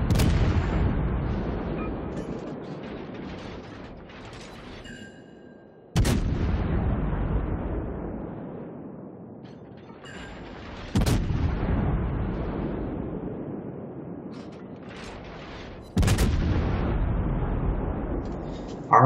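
Naval gunfire from the cruiser Des Moines in the World of Warships game: four heavy booming salvos about five seconds apart, each with a long rumbling decay.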